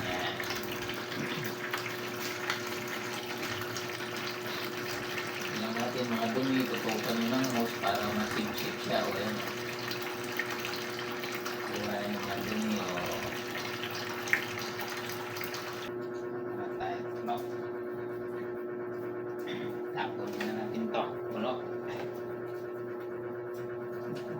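Water being drawn out of a home aquarium during cleaning, a steady pumping, running-water wash that continues throughout and softens near the end.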